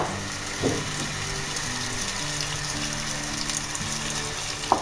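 Onions sautéing in a pan for restaurant-style Trivandrum chicken chilli, a dense continuous frying sizzle with a couple of soft spatula knocks, close and steady throughout, no voices.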